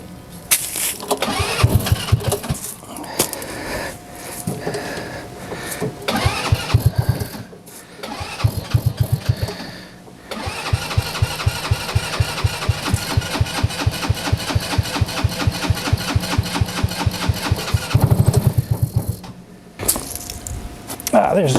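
A Trail Wagon TW200 utility vehicle is cranked repeatedly, the starter grinding in rapid rhythmic chugs across several long attempts with short pauses between, close and loud, and a person talks in between.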